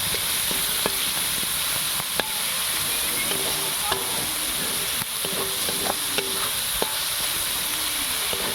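Onions frying in oil for prawn curry, with a constant sizzling hiss overlaid by irregular clinks and scrapes of a spoon stirring in the pan, close and continuous.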